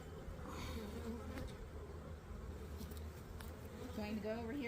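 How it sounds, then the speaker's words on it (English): Honey bees buzz close around the camera during a spring hive check, a steady dense insect drone running throughout with louder passes near the end. "I'm sure the bees are probably buzzing the camera also"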